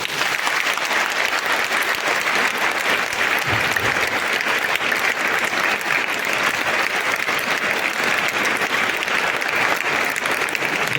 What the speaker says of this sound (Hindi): एक बार अपने सांसद रमेश धोनी के लिए ताली कीजिए